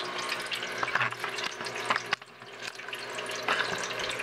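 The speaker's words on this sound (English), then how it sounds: "all of the water seems to be straight, coming down in a beautiful line" Water pours steadily from a lighted party drink fountain, a continuous splashing stream with small bursts of spatter, fairly close and alone.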